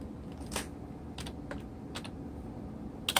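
Keys clack on a computer keyboard in a few short bursts of quick, close typing separated by quiet pauses, ending with a sharper cluster of strokes.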